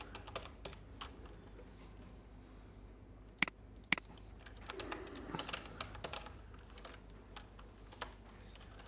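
Keys clatter on a computer keyboard in short, irregular bursts of typing, close and fairly quiet, with a couple of sharper clicks in the middle and no voices.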